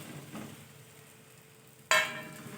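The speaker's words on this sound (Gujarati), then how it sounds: "હવે આપણે બધું એને મિક્સ કરી દઈશું. સરસ એકદમ બધું મિક્સ કરી દઈશું" Leftover-rice snack frying in a pan and being stirred together with spices in a little oil, a steady soft sizzle with light scraping, then a sudden louder burst of crackling sizzle near the end.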